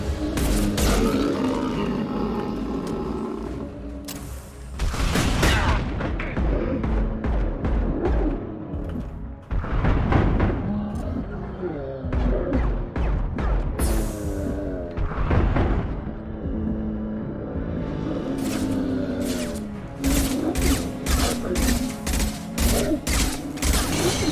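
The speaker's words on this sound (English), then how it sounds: "Taking heavy fire!" Heavy gunfire in Mass Effect comes as repeated loud bursts of rapid shots, separated by short pauses, over roaring combat noise and the sounds of creatures snarling nearby.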